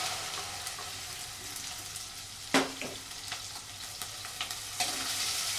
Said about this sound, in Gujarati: છે ને તેલમાં સાતળી દેવાની ભીંડી.